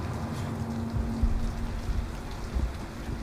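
Rain falls steadily with a dense, continuous patter at moderate level, a faint low hum and occasional soft thuds beneath, with no voices.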